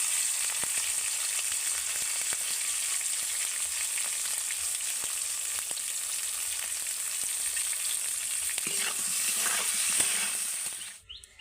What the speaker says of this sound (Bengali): বেগুনটাও আমার ভাজা হয়ে গেছে